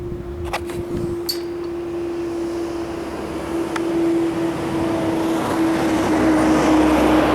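A used car, newly bought for $2,300, runs with a steady engine drone and a faint sustained tone, growing gradually louder as it approaches or accelerates, with a few brief knocks early on.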